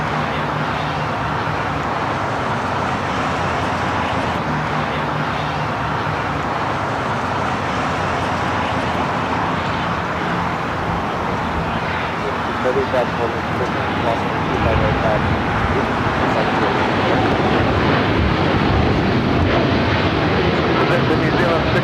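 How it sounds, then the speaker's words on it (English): Japan Airlines Streamliner jet accelerating down runway 25 right at Los Angeles LAX, a broad continuous engine roar that swells toward the end, with a voice talking over it. "we got the Japan Airlines Streamliner now rolling down at 25 right"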